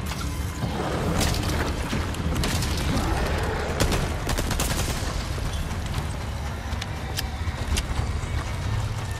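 Gunfire in a video game, with bursts of sharp shots and booms scattered across a noisy, dense background, close and loud, with no clear talk over it.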